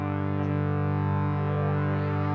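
A wavetable synthesizer holds a steady, buzzy, harmonically rich drone while an LFO sweeps the wavetable position and warp, making the timbre shift slowly and subtly over two seconds, heard alone.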